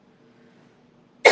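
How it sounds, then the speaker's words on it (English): A single sharp, loud cough from someone with bronchitis bursts out at the very end after a stretch of near silence. "I still have to cough."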